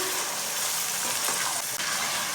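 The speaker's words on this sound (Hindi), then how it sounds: "सब्ज मिर्च और टमाटर को 3 मिनट तक पका लेना।" Finely chopped tomatoes and green chillies fry in a pan for a chicken biryani, a steady close hiss and sizzle with faint stirring scrapes, no talking.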